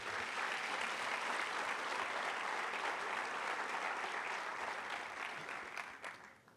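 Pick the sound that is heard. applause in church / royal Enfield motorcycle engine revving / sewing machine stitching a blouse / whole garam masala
applause in church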